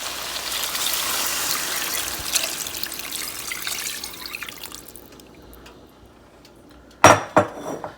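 Water pours steadily into a cooking pot over goat meat with a hissing rush that fades out, followed by a few sharp clinks of metal against the pot.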